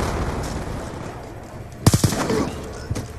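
Shotgun fire in the Call of Duty Black Ops 2 multiplayer map Hijacked: a quick cluster of three loud blasts, then scattered fainter shots amid game background noise.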